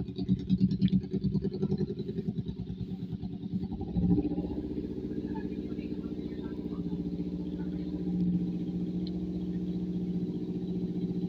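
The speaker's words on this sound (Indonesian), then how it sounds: "ada suara motor lewat" A motorcycle engine putters nearby, revving briefly before settling into a steady mid-pitched drone that holds for several seconds.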